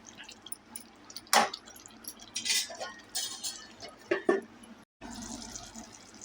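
Metal lid set onto a pan of cooking tondli (ivy gourd) vegetable, a few clinks and clatters up close amid soft sizzling and stirring, with a voice speaking briefly.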